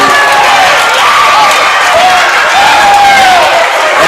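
Loud crowd at a high school wrestling sectional in Fannin County cheers and claps continuously, a dense roar with whistles and shouts rising over the din after a big win.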